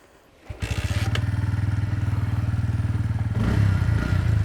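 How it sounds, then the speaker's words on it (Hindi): A Bajaj Pulsar P150 motorcycle engine catches on a kick start with a thud and clatter, then settles into a steady, close, loud idle thump that rises briefly near the end. "लेट्स सी कि मैं इसको एक किक में स्टार्ट कर पाता हूँ नहीं कर पाता"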